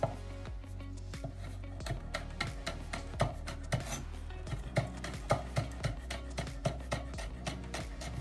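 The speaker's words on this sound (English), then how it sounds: "finely chop your green chilli" A knife finely chops green chilli on a board for a coconut milk curry, making quick, steady, close taps that speed into a brisk rhythm over a low background hum, with no voices.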